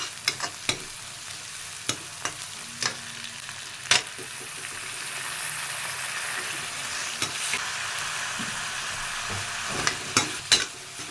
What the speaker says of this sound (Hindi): अब इसमें हम टमाटर डालेंगे, फ्लेवर बनने के लिए भूनते हैं इसको।